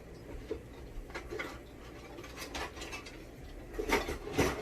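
A spoon scrapes and clinks in a pot of taco pasta and salsa, with soft irregular stirring taps and knocks that rise into a few louder clanks near the end, quiet and close.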